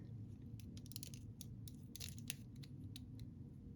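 Scissors snipping and crunching through vintage decorative tape, close and quiet, a rapid run of small cuts and scrapes with no talking.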